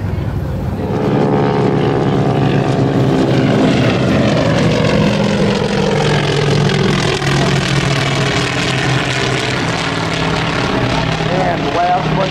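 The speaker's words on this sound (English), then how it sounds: "And here's the Helldiver." A Curtiss Helldiver warplane making a flying pass at an airshow, its radial engine and propeller giving a loud, steady roar with a slowly shifting pitch as it passes, close and continuous throughout.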